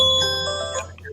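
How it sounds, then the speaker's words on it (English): A phone alarm tone rings out with bright sustained electronic notes that fade briefly before a chirping change in pitch, fairly loud and close over a low background hum. "That's my alarm, but I'm off today."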